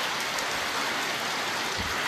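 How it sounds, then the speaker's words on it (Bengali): Steady, heavy cyclone rain pours down in a dense, continuous hiss and patter, loud and unbroken throughout with no voices. "এই বৃষ্টি কমে বাড়ে কি অবস্থা।"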